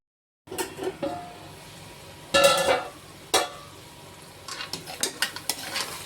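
Capsicum and other vegetables cook in a covered pan for an egg pasta, with a soft steady sizzle broken by a few loud metallic clanks of the lid and utensils, then lighter taps and scraping near the end.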